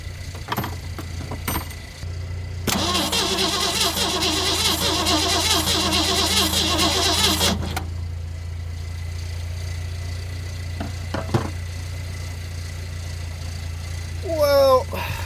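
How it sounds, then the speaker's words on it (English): The engine of a 1964 Ford Galaxie 500 sedan with a ruined lifter cranks and catches, runs roughly for about five seconds, then cuts out. People talk before and after. "Well, I'd say this engine needs a new lifter."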